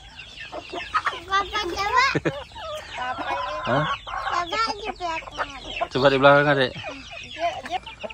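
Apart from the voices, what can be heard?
chickens clucking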